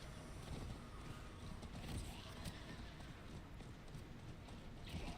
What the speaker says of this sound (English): Alright, back on my horsey.